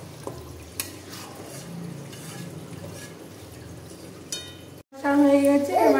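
Mutton being stirred and sautéed in a pan for a Bengali kosha curry, soft scraping and light sizzle, then louder clattering stirring at the end, with someone talking over it.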